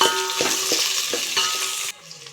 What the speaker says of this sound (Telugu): ఇందులోకి నేను మిర్చి అయితే కాటు పెట్టి పెట్టాను సో ఇవైతే వేసేస్తున్నా ఆయిల్స్